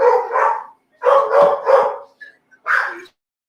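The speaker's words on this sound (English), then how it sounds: "The dog just started barking randomly." A dog barks indoors, loud and close, in a quick run of about six sharp barks in uneven bursts with short silences between them. There is no talk over the barking.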